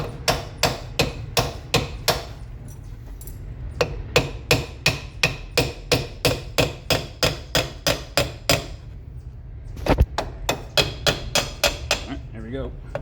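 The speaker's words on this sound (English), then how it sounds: "now I'm going to need a hammer because I know it's stuck" Repeated hammer blows on a stuck rear brake drum of a Triumph Spitfire, about two sharp metallic strikes per second in a steady run, with a short pause and a brief voice near the end.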